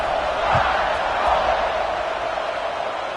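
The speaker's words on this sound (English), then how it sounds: "this crowd is buzzing after that last score" At an Alabama versus Nebraska football game, a large stadium crowd holds a steady, loud buzzing roar, with a few faint thumps and no clear voices above it.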